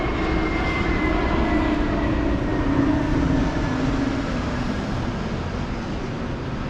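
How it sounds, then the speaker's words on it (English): A fixed-wing airplane passes overhead at an outdoor workshop remodel site, a loud sustained engine drone that swells slightly midway and holds steady, filling the whole stretch with no talk. "Here comes the plane, of course."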